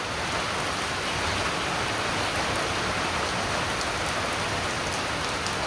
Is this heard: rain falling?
yes